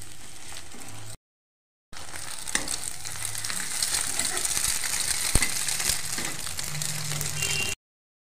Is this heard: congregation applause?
no